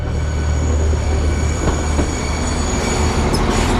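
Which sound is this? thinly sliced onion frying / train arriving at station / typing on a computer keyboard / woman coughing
train arriving at station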